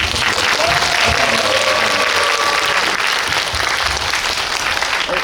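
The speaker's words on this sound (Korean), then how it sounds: "여러분 따뜻한 박수 부탁드립니다" A theater audience at a Busan International Film Festival Q&A session after a screening gives loud, sustained applause, thick steady clapping from a large crowd with faint voices beneath.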